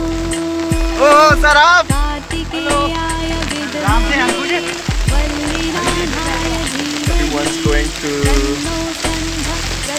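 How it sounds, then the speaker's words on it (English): Rain falling at Kartik Swami Temple in Uttarakhand, a steady close patter and hiss heard throughout beneath people chatting and talking nearby. "it's started to rain. We were all in raincoats"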